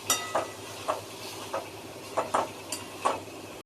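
Spices and snails being stirred and sautéed in a pan, with intermittent scraping stir strokes repeating every half second or so over a soft background sizzle, close and moderately quiet.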